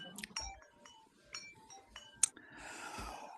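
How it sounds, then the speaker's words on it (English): Chimes rung during a church service, several separate clear bell-like strikes spaced out at an even pace, fairly quiet, followed by a short wash of softer shimmering sound. "ring the chimes."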